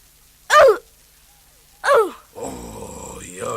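A voice imitates a dog barking with two short, throaty woofs about a second apart, followed by steady nearby talking.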